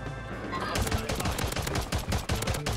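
Rapid Glock 16 pistol fire in Call of Duty on Rebirth Island, a dense burst of sharp repeated shots over about two seconds, loud and close.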